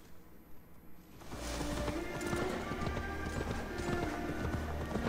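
A horse gallops in the video game Assassin's Creed Valhalla. After a quiet second, steady rapid hoofbeats start up and continue as a loud, rhythmic clatter to the end.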